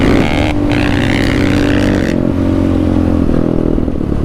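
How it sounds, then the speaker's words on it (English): A Polaris Outlaw 525 IRS quad engine runs close and loud, a steady rough droning with a brief throttle rise early on and a clattery tone throughout. "We'll just run it for a couple seconds."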